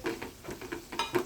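A tempering for tomato dal fries in a pan, crackling and sizzling in short repeated bursts as it is stirred, close and moderately loud over a brief stretch with no talking.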